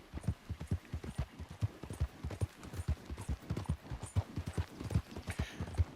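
Hooves of a horse clip-clop steadily at a walking pace in Red Dead Redemption II, a continuous even rhythm of soft, close thuds with no talking.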